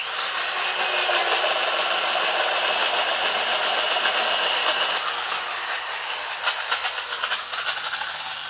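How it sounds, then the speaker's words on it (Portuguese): Old 1970s electric drill boring into wood, a steady high-pitched motor whine and hiss running throughout, close and loud, turning rougher and more uneven toward the end as the bit bites. "Essa furadeira aqui na década de 70 ainda, muito antiga."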